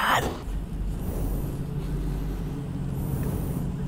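A 2018 Dodge Hellcat gives off a steady, loud low engine rumble with a deep broadband roar that holds evenly throughout, with no voices over it.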